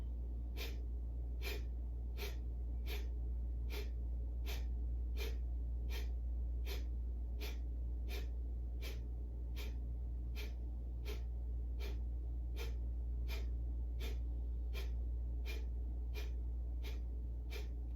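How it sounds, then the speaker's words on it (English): Breath of fire, the rapid forceful yoga breath, comes as a fast, even series of sharp nasal puffs, roughly two per second, steady and close over a low background hum, with no talk. "Breath of fire"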